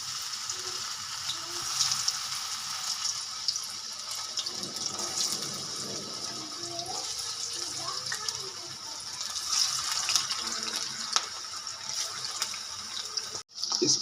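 Chicken pakoras fry in oil mixed with mustard oil over a medium-to-low flame, a constant crackling sizzle close by that holds steady throughout, with a brief sharp knock near the end.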